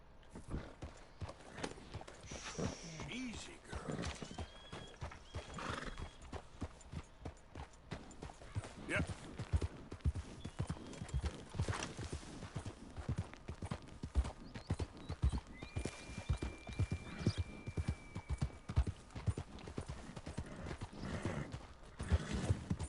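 Horse hooves clip-clop at a steady walking rhythm in Red Dead Redemption 2, close and moderately loud, running continuously with faint ambient game sound and occasional talk.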